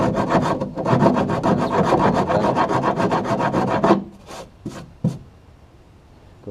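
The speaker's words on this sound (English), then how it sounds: "Go back to the flat rasp." A flat rasp files a wooden transom in steady, rapid back-and-forth strokes, loud and close, then a handful of separate scrapes before it stops, with no talk.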